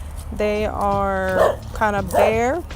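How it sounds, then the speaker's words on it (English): A dog yips and barks in short bursts while a person talks over it, the barks fairly close and loud. "I think you could hear my dog barking"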